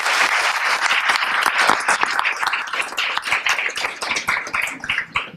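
Audience applause at a school board meeting honouring a student team, steady dense clapping throughout, loud and close with no speech over it.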